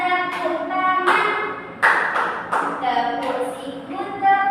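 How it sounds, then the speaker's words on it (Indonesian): A classroom group claps hands and pats elbows and shoulders in a repeating pattern, giving a series of sharp slaps under a voice chanting along. "Ini tepuk siku, tepuk pundak, tepuk tangan."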